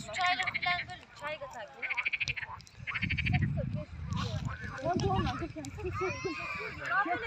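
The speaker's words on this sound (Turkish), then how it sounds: "Arkadaşlar kurbağa sesler bakın." Frogs croak repeatedly in a loud chorus at Baltalı Dam in Turkey, with rapid rhythmic calls layered together and people talking nearby.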